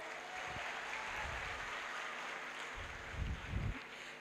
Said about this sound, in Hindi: मैं चाहती हूँ उनके सम्मान में एक जोरदार तालियां हो जाए